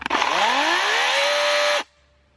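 A Litheli 40V cordless chainsaw spins up loud and close, its motor whine rising steadily in pitch for nearly two seconds before cutting off abruptly into quiet.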